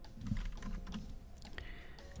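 Soft keystrokes on a computer keyboard sound at close range, quiet and uneven against a low steady room hum.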